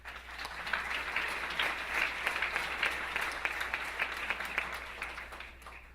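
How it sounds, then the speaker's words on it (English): Dinner-gala audience applauding in a banquet hall, a dense, even round of clapping that holds steady from start to finish at a moderate distance. "I'm going to ask you for one more round of applause"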